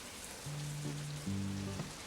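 Rain falls steadily as a soft, even hiss throughout, with a low sustained tone that comes in and changes pitch partway through; no talk.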